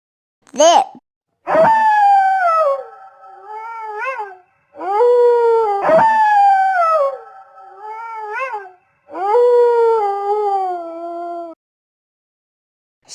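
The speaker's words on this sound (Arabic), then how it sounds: "ذئب،" A wolf howls several times in a row, long rising and falling wails with rich overtones, loud and close, separated by short pauses, one brief yelp at the start.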